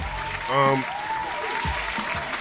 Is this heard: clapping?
yes